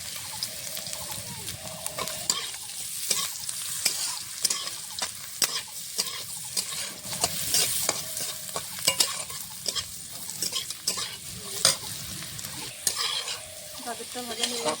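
Carrots frying in oil with a pinch of salt make a continuous sizzle broken by repeated scraping and stirring clicks of a spatula in the pan, close and fairly quiet with no voices.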